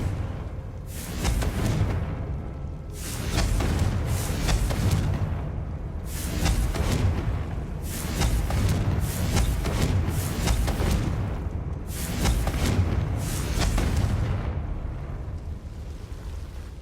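Repeated Confringo fire-spell blasts in the Hogwarts Legacy game, loud booming bursts roughly every two seconds over a continuous rumbling bed, with no talking.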